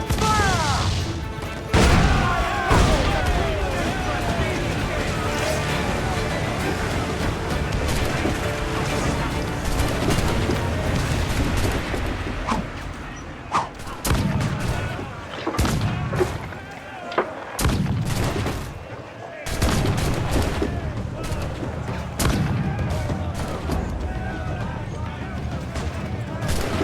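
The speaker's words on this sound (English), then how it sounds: "Cannon ready! Awaiting orders! Fire! Fire!" Ship cannons fire again and again in a naval battle in Assassin's Creed IV: Black Flag, with heavy booms and crashes crowding together, then a few more spaced blasts, over shouting voices and a loud battle din.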